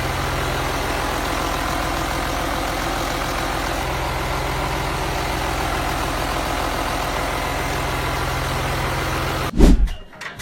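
An antique 50-horsepower Superior oilfield engine runs steadily, a loud, close, continuous low throbbing drone with a rhythmic beat, ending in a brief louder thump near the end.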